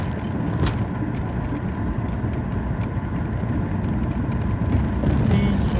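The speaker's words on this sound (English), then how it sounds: "I'm driving west on Spring Mountain to Chinatown" Car driving west on Spring Mountain Road in Las Vegas, heard from inside as a steady low road and engine rumble with tire noise, constant and close, with no talk.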